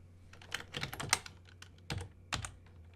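Code is typed on a computer keyboard in short, quick bursts of close, crisp key clicks, separated by brief pauses, with no speech.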